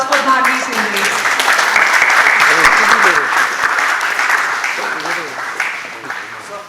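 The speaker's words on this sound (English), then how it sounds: "Please give a huge round of applause for Bharvi Sindhi." Round of audience applause at a talk event, loud sustained clapping from a crowd with a few voices audible underneath, gradually tapering toward the end.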